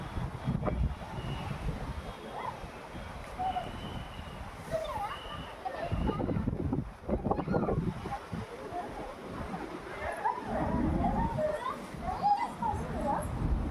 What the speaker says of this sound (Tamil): அது செம்ம காற்று வரலா பாருங்க எப்படி அசைதுன்ட்டு செம்ம காற்று